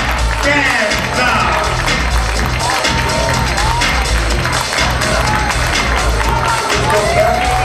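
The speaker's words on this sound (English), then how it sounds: "Give him a round of applause, y'all." Awards ball crowd applauding and cheering for an honoree, a dense sustained wash of clapping and whoops that stays loud throughout with no pause.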